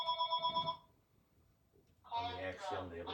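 A telephone rings during a home yoga session, with a clear electronic ring burst at the start and another ringing passage after a short pause, the second one partly overlapping a person talking.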